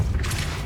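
Depulso spell cast in the video game Hogwarts Legacy, a brief low thud and boom followed by a short whooshing burst of noise.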